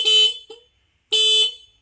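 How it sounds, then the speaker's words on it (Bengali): Two short electric horn toots from a new Honda 125cc motorcycle, loud and close, with a brief blip between them and a pause before the second longer blast. "হর্ন আওয়াজ খুব ভালো"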